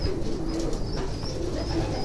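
Soft, low cooing of homing pigeons repeats steadily against a faint outdoor murmur, close by and unhurried.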